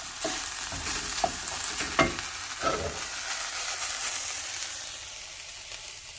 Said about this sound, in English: I'm going to scrape up any like caramelized sauce off the side